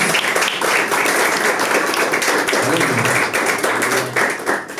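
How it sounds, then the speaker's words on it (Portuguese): Church congregation applauding during a communion service, a dense, steady wash of many hands clapping close by for several seconds, with faint low musical tones underneath. "Vamos aplaudir a Jesus pela vida dele?"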